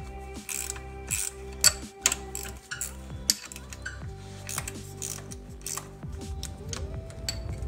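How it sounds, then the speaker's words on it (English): A ratchet wrench loosens the two 12 mm bolts on a Honda Civic's clutch slave cylinder, giving quick bursts of close clicking separated by short pauses and a few metallic knocks. "Easiest method I've found to remove them is a ratchet wrench."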